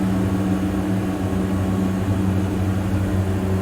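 Diamond DA-42 twin-engine aircraft in a flight simulator takeoff: a steady, loud engine drone with strong low harmonic hum, continuous and unbroken throughout.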